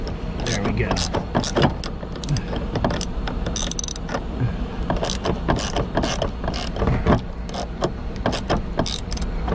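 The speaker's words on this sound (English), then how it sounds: "We're gonna use the ratcheting wrench to get it out." A ratcheting wrench fitted with a Torx bit backs out a rear shock bolt on a 2002 Volvo V70 T5 station wagon, giving loud, close, continuous rapid pawl clicking in uneven strokes with a faint voice underneath.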